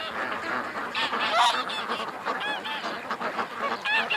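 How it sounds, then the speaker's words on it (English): Agitated ducks call from shaky ground beside a creek, a steady run of nasal, honking quacks overlapping one another at close range, loud and continuous with no talk. "The ducks are not liking me out here though. They got a little bit upset."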